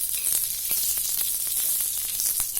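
Green chillies roasting in a pan for a Khandesh-style vegetable dish, a bright continuous sizzle with a few sharp crackles and pops, close and steady.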